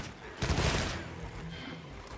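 Light bowgun shots in Monster Hunter Wilds: a burst of rapid gunfire with a loud, dense onset that trails off into sustained rumbling, with faint game ambience underneath.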